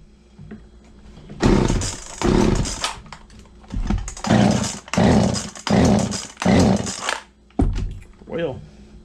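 A Husqvarna 235 chainsaw is pull-started and fired up in short bursts. Its engine catches and revs briefly several times, loud and close, with pauses in between.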